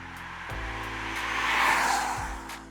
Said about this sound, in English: You can hear a little bit of a sci-fi buzz outside the car